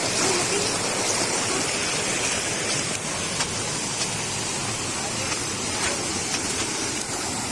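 Clear mountain stream water pouring and rushing at Wang Chung Stream in Tai Po, Hong Kong, a loud dense continuous roar with faint splashy bursts close by.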